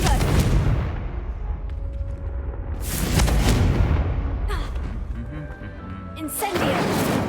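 Confringo blast spells exploding in Hogwarts Legacy, several booming bursts spaced a few seconds apart with rumbling decays between them, loud and close.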